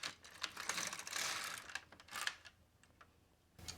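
A knitting machine carriage slides across the needle bed knitting a row, a fast rattling, clicking mechanical sweep that rises and falls, followed by quieter scattered clicks, close and moderately faint.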